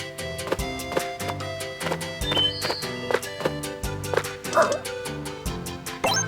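Repeated cartoon dog barks from Pac-Buddy in Pac-Man World 2 Re-Pac, evenly spaced woofs riding on upbeat game music, up front and clear, with no one speaking.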